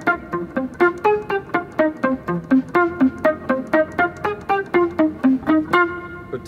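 Electric guitar playing a sequence of short staccato notes with the delay effect switched off, each pluck clipped and separate in a quick regular rhythm, clear and close with no talk.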